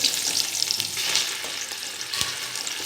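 Onions with ginger garlic paste fry with a steady, close hiss while a spoon stirs through the pan, giving a few soft scrapes and knocks, for a chicken biryani.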